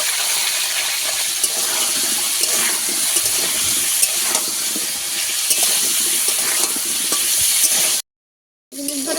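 Potatoes fry with salt in a pan, a loud, dense sizzle with scraping stirs throughout, briefly cutting to silence before resuming more quietly, with no voices.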